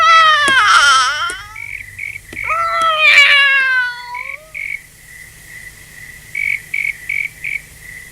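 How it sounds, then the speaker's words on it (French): A cat gives two loud, drawn-out wailing meows close by, followed by a run of short, high chirping calls, with quiet ambience between them. "Viens ici, mon chat, viens ici."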